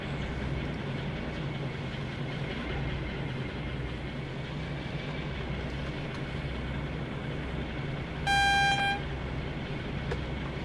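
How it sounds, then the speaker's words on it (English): A short, thin horn blast from a train in Train Sim World 6, sounding once for under a second over a steady rumble of rolling rail cars and cab noise. "What the heck kind of train horn is that?"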